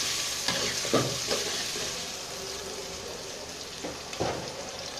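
Onions hit a small amount of fresh oil in a pan, giving a steady, close sizzle with a few brief spatula scrapes near the start and end, no voices.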